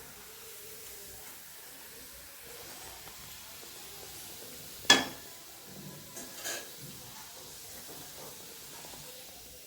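Cassava chips dropped into hot oil to deep-fry, one sudden loud hiss of sizzling followed by a few smaller bubbling bursts over a quiet kitchen background.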